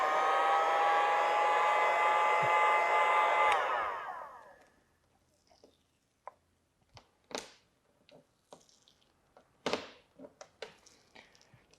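A heat gun or hair-dryer-style blower whirs steadily at close range while warming paint protection film on the rocker panels of a C7 Corvette Z06. It cuts off after about four seconds, and scattered ticks and light thunks follow.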